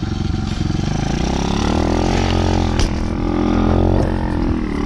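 A motorcycle engine runs steadily and loudly close by while being ridden, with a low throbbing drone and small shifts in pitch throughout.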